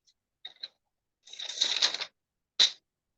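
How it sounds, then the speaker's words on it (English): Paper rustles and crinkles in three short bursts: two quick crackles, a longer rustle lasting nearly a second, then one sharp crinkle, all close and in otherwise quiet surroundings. "Sorry for the noise with the paper."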